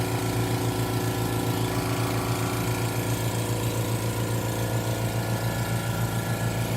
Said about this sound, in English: And now pulling the door closed with vacuum.